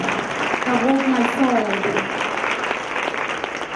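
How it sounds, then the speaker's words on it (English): An audience applauds after a poem at a Hmong community event, a steady crowd clapping that runs throughout while a voice speaks over the start. "Another round of applause"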